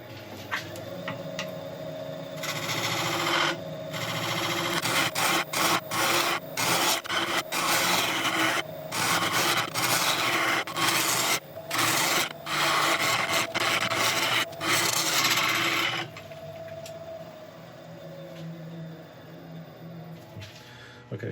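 Turning tool shaping a curve on a wooden workpiece spinning on a lathe, giving a loud continuous rough scraping hiss with rhythmic cutting pulses and a steady motor hum that eases off toward the end.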